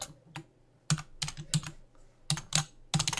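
Keys clack on a computer keyboard in short irregular bursts, crisp and close, with quiet gaps between clusters of strokes and no voices.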